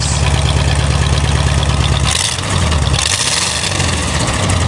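A car engine revving after a cold start, a loud steady rumble that swells with revs and dips back toward idle, close up with no talking.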